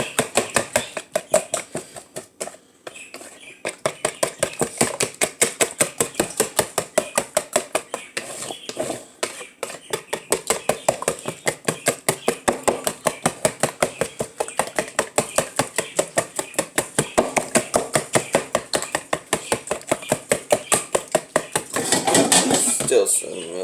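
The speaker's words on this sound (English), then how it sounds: "I got a whisk. We're just gonna whisk this all together." Cinnamon roll ingredients are whisked in a bowl, making a fast, continuous, loud metallic clatter of whisk wires against the bowl that runs nearly the whole time with only brief pauses.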